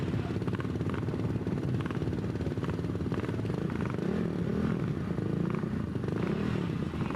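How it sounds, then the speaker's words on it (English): A motorcycle engine at the Prescott hill climb runs again after stalling, with a steady, throbbing idle and rhythmic clatter, holding a constant rumble throughout. "It sounds as if the engine's running again."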